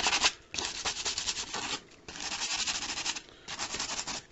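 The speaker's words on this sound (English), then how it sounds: "give it a light sanding, I don't really want to go too overboard with it." Light sanding strokes scratch across a hard plastic skull in bursts, pausing briefly between passes, close and fairly steady.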